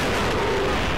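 Dense, continuous gunfire and explosive bursts from the shooter video game Resistance, a loud unbroken wash of shots with no pauses for the full second.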